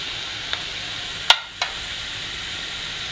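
Onions and spices for ragda patties sautéing in a pan: a steady, even sizzle and hiss throughout, broken by a few sharp clinks of a utensil against the pan.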